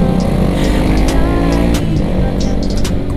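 A car engine hums steadily from inside the vehicle while it creeps through slow, congested traffic, a loud continuous drone that eases slightly toward the end, with no talking.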